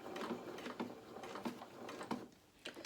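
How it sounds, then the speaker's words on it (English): A sewing machine stitches fabric for a fully lined doll jacket with tails, running in short rhythmic bursts of rapid mechanical ticking with brief pauses between runs, close and moderately loud. "So let's do a few more stitches"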